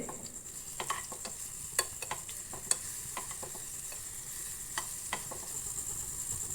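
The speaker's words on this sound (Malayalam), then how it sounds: "ചെറുതായി കട്ട് ചെയ്ത ഒരു നേന്ത്രപ്പഴം അതിലേക്കിട്ട് നന്നായി ഒന്ന് വഴറ്റിയെടുക്കുന്നുണ്ട്" Chopped ripe banana sautés in ghee in a non-stick pan, with a steady soft sizzle and occasional light clicks of stirring, all fairly quiet.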